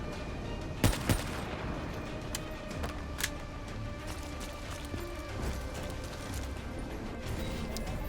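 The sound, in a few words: sniper rifle gunfire in video game Black Ops 3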